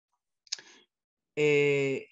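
A single short mouse click during a Spanish-language talk, advancing a presentation slide; one brief tap, faint and isolated, followed by a short breathy vocal sound.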